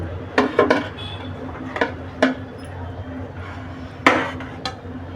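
Veg pulao is scooped out of a cooking pot, with several sharp metallic clinks and scrapes of a spoon against the pot spaced irregularly over a low background hum.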